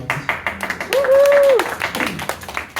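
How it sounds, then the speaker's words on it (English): A live radio-show audience breaks into brief, close applause, sharp claps mixed with a voice speaking over them. "The applause gives me a moment to clear myself."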